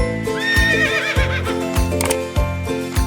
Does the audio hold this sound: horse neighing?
yes